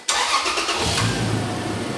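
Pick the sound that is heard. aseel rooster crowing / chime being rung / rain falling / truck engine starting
truck engine starting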